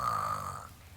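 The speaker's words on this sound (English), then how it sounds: "you're snoring away" A person dozing off while sitting in a chair snores in one short, rough, drawn-out rasping breath that fades toward the end, close and fairly loud with no talking.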